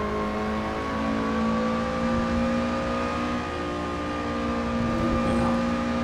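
A Lotus Elise SC RSR engine drones steadily and loudly throughout a warm-up lap at Mount Panorama, Bathurst, its pitch holding fairly even with slight rises, with no talk over it.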